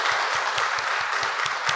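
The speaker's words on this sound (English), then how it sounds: "Please give them a round of applause" Audience applause for panel speakers after a COP26 climate discussion, steady clapping from a crowd with a regular low thump pulsing underneath, moderately loud and continuous.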